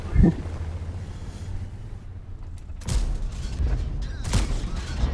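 Tank cannon shots from an E 50 Ausf. M battle in World of Tanks come as several sharp, heavy booms spread across the clip over a low engine rumble.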